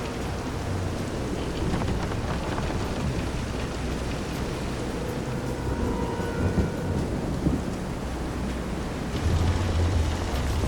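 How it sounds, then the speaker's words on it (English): Heavy rain and rolling thunder during a storm at sea in the Visions of Mana video game, a dense, loud downpour with deep rumbles that swell toward the end. "This is some storm."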